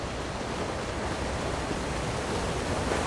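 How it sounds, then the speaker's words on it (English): A waterfall in Elder Scrolls Online pours as a steady, dense rush of broadband noise, close and constant with no voices. "Come, here, behind the waterfall"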